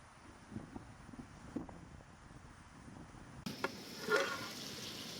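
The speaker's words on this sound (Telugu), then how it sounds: "చికెన్ చూడండి బాగా ఫ్రై అవుతుంది." Farm chicken fries in a pan for a dry village-style chicken recipe, a faint, steady sizzle with scattered soft crackles, turning brighter and louder partway through as the pan is disturbed.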